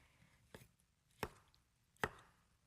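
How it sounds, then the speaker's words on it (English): A knife cuts through tomatoes on a cutting board, three quiet, separate chops spaced well apart, with no talk. "But I like to cut them myself."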